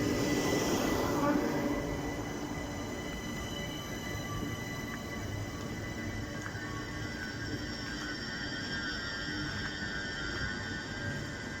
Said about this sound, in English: here comes in the other service, for the other train for Clapham Junction